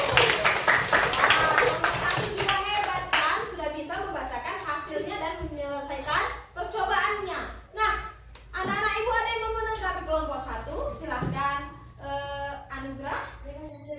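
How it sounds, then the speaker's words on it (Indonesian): Students in a classroom clap for a group, with a burst of hand claps at the start fading into light scattered clapping while children and a teacher talk over it. "kasih tepuk tangan untuk kelompok 1."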